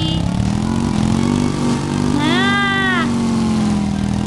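A motorcycle engine in the Sakura School Simulator game hums and drones steadily for several seconds, with a brief rising rev in the middle, while a voice speaks briefly over it.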